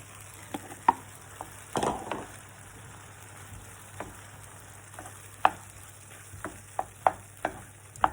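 Chopped mushrooms stirred into a thickened chicken sauce in a pan, a quiet background hiss with scattered light spoon clicks and taps and one brief scraping burst, no voices.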